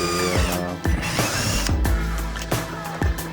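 A power drill bores holes through plastic parts on a Honda Z125 motorcycle, whirring loudly in short bursts with sharp clicks and knocks between them, close up and without talking.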